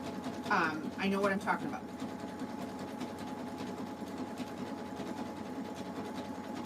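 A sewing machine runs steadily while stitching a jelly roll fabric rug, a continuous even hum that holds throughout, with a person talking briefly over it at the start.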